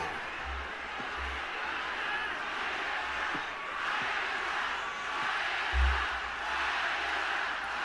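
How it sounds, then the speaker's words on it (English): Arena crowd at an FMW Japan death match wrestling event roars continuously from a distance, a steady dense wash of cheering with occasional low thumps, no clear talk over it. "Listen to this fucking crowd, dude. They are on fire."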